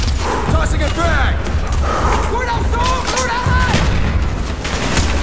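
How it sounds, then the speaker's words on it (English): A frag grenade blast and gunfire in Call of Duty: Black Ops ring out in a loud, busy battle mix of bursts and booms, with shouting voices over the fighting. "Tossing a frag!"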